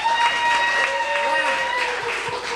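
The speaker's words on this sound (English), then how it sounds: "Round of applause if you have jeans." Audience applause at a comedy show, scattered clapping mixed with crowd noise and voices, moderately loud and ongoing, with talking over it.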